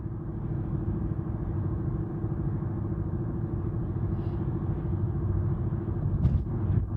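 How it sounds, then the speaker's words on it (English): Early-morning road traffic makes a steady low rumble of engines that passes continuously, with a brief sharper sound near the end; no one speaks. "there's a lot of traffic for this early in the morning"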